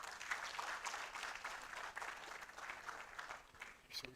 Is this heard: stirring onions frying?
no